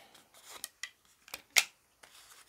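Scissors snip through yarn in a few quiet, close, crisp cuts spread over two seconds, the sharpest near the middle, with light rubbing in between.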